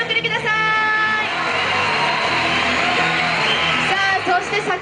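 Audience at the Tokyo Game Show 2006 breaks into loud, sustained applause and cheering that fills the hall evenly for several seconds, with shouts and whoops rising from the crowd.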